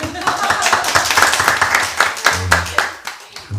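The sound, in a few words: church congregation applauding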